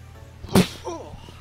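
A single sharp, explosive sneeze bursts out close by, followed by a brief voiced sound as it trails off.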